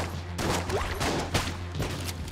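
Rapid shots from enemy eyes in the dungeon shooter Enter the Gungeon, a quick run of small popping blasts in close succession over a steady droning game soundtrack.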